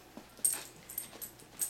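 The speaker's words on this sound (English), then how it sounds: "He's such a nice dog." A small dog of about 10 to 12 pounds whimpers in short, faint high whines, four or five brief cries spread over under two seconds with no talk.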